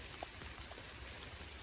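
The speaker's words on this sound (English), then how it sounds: "Hopefully the rain stops at some point. But not raining hard, just steady." Steady, moderate rain falls on a hiking trail in cold weather, making a continuous soft hiss with scattered individual drops pattering close by.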